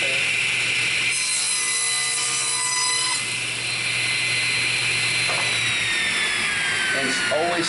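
Table saw cutting through a clamped wooden workpiece outdoors, a loud sustained whining rasp of blade through wood with a shifting pitch as the cut progresses, continuous and close, with brief knocks near the end.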